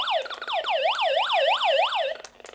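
A hand-crank emergency radio's SOS alarm wails as a loud, rising-and-falling electronic siren, sweeping up and down about five times in quick succession before cutting off.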